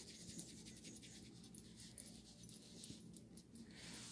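A dog whimpers and pants up close in a quiet domestic setting, with soft rapid breathing and thin high whines throughout, no talking.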